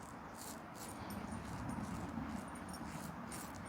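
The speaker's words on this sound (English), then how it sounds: "Two of the best dogs you'll ever meet." A dog whimpers softly at home, thin intermittent whines faintly heard over a steady hiss of room noise, with no talking.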